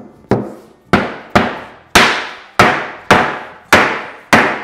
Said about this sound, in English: I'm just using the mallet to sink the top of that cabinet top into the dado.